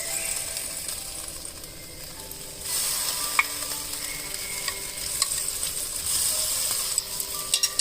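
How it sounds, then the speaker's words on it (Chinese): Fish fillets, marinated for ten minutes, go into a pot of boiling water with ginger slices. A steady bubbling hiss grows fuller partway through, with a few small clicks and rattles, and no one speaks. "水开了以后，把刚才腌制了10分钟的鱼片放在滚水里的"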